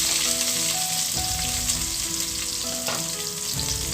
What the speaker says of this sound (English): Next, what I'm going to do is add 1 large red onion,